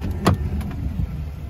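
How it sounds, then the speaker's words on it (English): Power folding mirrors on a 2022 Chevrolet Silverado 1500 High Country 4x4 moving with a short electric motor whir and a few soft mechanical clicks, close and fairly quiet, over a low background hum. "power folding mirrors"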